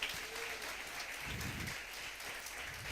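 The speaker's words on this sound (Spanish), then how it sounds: "Denle un aplauso al Señor" Applause from a church congregation during a worship service, a steady broadband clatter of many hands that stays fairly soft and distant throughout, with no voices over it.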